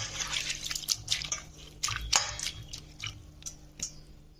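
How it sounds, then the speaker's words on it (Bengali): Ridge gourd peels are kneaded and squeezed by hand in water, giving soft irregular squishes, drips and small splashes close up and fairly quiet, with no talking. "খোসাগুলোকে কিন্তু তোমাদের এইভাবে চটকে চটকে ভালো করে ধুয়ে নিতে হবে"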